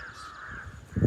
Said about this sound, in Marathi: एक कावळे गागता इथं